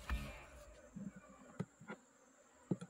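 A swarm of honey bees at a hive box makes a faint, steady buzzing hum with a few soft knocks and handling noises close by.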